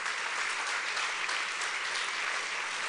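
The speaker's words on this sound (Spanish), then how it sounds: "Denle un aplauso fuerte de alabanza a Jesús." A church congregation claps steadily and loudly, a dense continuous burst of applause from many hands with no one speaking over it.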